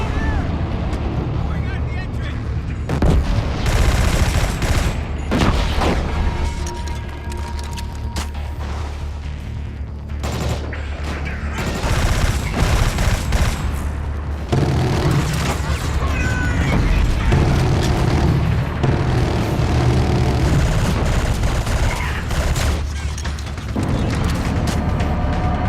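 Booming weapon secondary fire and explosions from a PS4 shooter video game shown at a live 2013 console reveal, heavy and continuous across the stretch, mixed under people talking and reacting.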